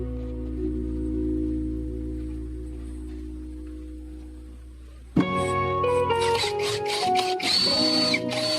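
Power drill boring marked points in a workpiece for a mini wood lathe build; a low steady hum fades, then sharp whirring bursts of drilling start abruptly and continue in uneven pulses.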